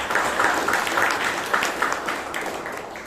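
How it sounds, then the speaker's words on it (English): At a Toastmasters club meeting in Bangalore, the audience gives a round of applause, a thick, continuous patter of many hands that stays fairly even before thinning slightly toward the end, with no talk over it. "Let's hear a big round of applause for us."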